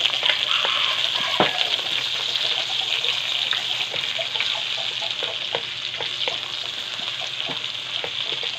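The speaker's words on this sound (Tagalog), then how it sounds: "Gisa muna natin yung bawang." Garlic and onion sauté for Filipino pinakbet, a steady close sizzle of frying in hot oil with occasional clinks of stirring throughout.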